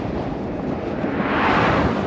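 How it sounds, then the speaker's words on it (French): Strong wind of about 35 km/h roars and buffets the microphone as a headwind while riding an electric scooter on the Pacific Coast Highway, a steady, loud rush that swells slightly toward the end. "Aujourd'hui, il y a un vent de fou."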